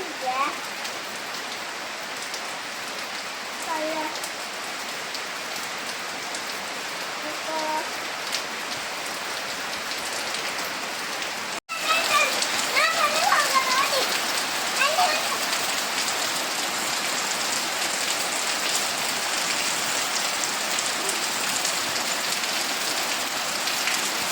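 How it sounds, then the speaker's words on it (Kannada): Steady rain pouring down and pattering on surfaces, continuous and fairly loud, briefly cutting out midway before resuming even heavier. "ಮಳೆ ಬರ್ತಾ ಉಂಟು ನೋಡಿದೆ"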